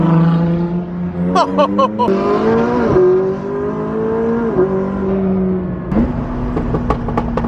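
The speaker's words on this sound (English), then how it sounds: "The pops on that Turbo S, my God!" Porsche Turbo S supercar in a convoy of exotic cars, its engine droning and shifting under loud overlapping engine noise, with a cluster of sharp exhaust pops and crackles at the start and more near the end.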